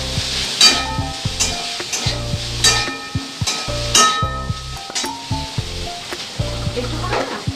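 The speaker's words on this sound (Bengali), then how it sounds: "আস্তে আস্তে অল্প অল্প করে আমি চাউল দেবো, নাড়াচাড়া করবো" Rice is added bit by bit to a hot pan with oil and stirred, giving soft sizzling with repeated scraping and clinking strokes of a utensil, close and fairly steady, with no talk.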